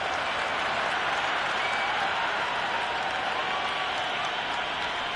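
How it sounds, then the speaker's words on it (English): Stadium crowd in the Cricket 26 video game during an England vs Australia Ashes Test, a steady, dense roar of cheering and applause that stays loud and unbroken throughout with no voices standing out. "The crowd is electric right now."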